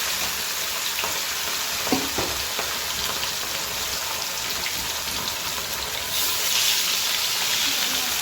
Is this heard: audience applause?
no